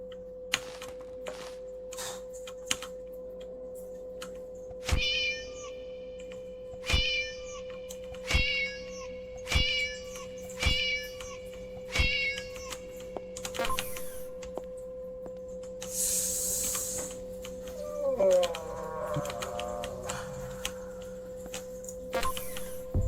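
Cat meowing in the horror video game Play Things, a string of about six clear, evenly spaced meows over a low steady hum, followed by a harsh burst and a longer warbling cry near the end.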